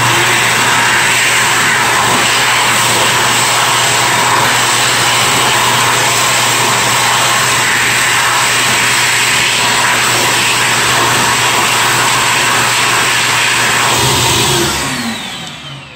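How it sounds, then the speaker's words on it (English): A loud Jetwell electric hand dryer in a dark bathroom blows with a steady high-pitched whine and airy roar, running continuously before cutting off and winding down at the end. "This is a video of the hand dryer in the dark."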